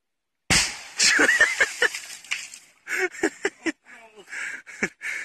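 Dum Bum firecrackers bursting outdoors beside water, several sharp loud bangs in quick succession with crackling debris, then more scattered pops and splashes, with people talking in between.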